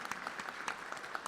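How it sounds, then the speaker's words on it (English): Quiet, distant clapping from an audience at an Indian engagement ceremony, honoring children from a temple who performed, a faint steady patter of hands. "Let's give a big round of applause for these children."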